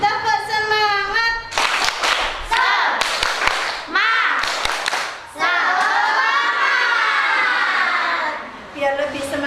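Indonesian schoolchildren in a classroom clap the rhythmic tepuk semangat cheer, loud patterned bursts of hand claps alternating with chanting children's voices.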